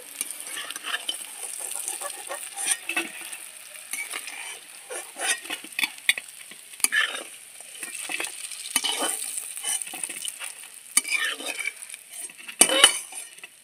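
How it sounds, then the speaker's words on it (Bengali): Hot oil hisses steadily while lentil cakes fry, metal utensils clinking and scraping against the pan in short, irregular bursts, close by and fairly loud. "লাল করে ভাজা হয়ে গেছে, ধোকাগুলো আমি তুলে নিচ্ছি।"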